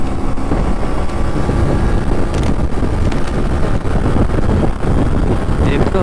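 Bajaj Pulsar NS125 motorcycle, 2025 model, accelerating hard in third gear, its engine a steady loud drone heavily buffeted by wind noise throughout.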